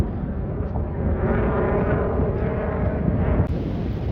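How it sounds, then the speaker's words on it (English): A helicopter flies over the beach at Beadnell on the Northumberland coast, a steady low rumbling drone that fills the whole stretch at an even, fairly close level with no talking. "As you see the helicopter again, it's as if they're on exercises."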